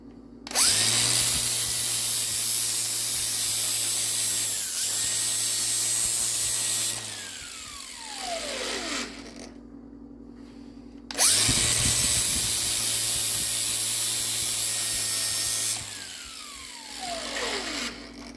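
Angle grinder with a flap disc grinding rust on a BMW E46 fender, two loud sustained bursts of abrasive whirring, each ending with the motor winding down, close up with no talk.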